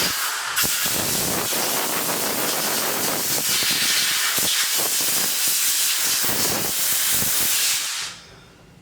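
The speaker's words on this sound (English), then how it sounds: "So we want to take our compressor, right, and we want to just blow." An air compressor blows a loud, continuous hiss of air across pistons to clean off walnut-blasting residue, a close, steady roar lasting about eight seconds before cutting off.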